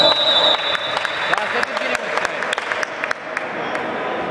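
A group claps in scattered, uneven bursts while someone pounds on a plastic jug, producing sharp irregular knocks that mingle with the applause and shouting at close range.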